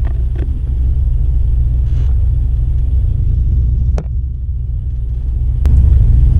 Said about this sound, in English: Racing a Camaro.